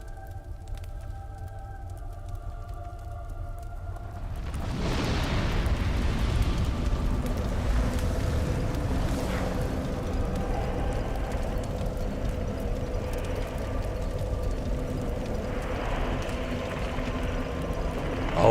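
The fire being linked at the finale of the Dark Souls DLC: after a hushed start, a deep, roaring rumble swells up and holds as a sustained low surge with faint tonal ambience.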